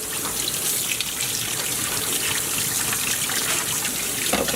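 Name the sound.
rinsing a pan with water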